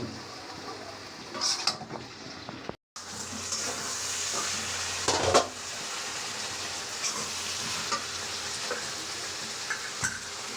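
Green chili vegetable bhaji frying in a pan makes a steady close sizzle, broken by scraping stirs and a short pause near the start, with no voices over it.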